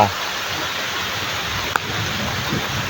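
Steady rain falls in a forest, a continuous broadband hiss with one brief sharp knock partway through, fairly loud and close, no voices.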